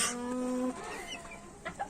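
Young hens cluck in a coop, with one drawn-out, nasal call up close followed by softer, short clucks and shuffling.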